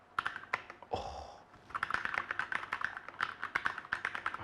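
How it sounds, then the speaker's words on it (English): Typing on a Keychron K6 mechanical keyboard with red switches produces rapid, close clicking and clacking keystrokes in an uneven rhythm, briefly interrupted by a short rustling sound near the start. "the Keychron K6 typing experience"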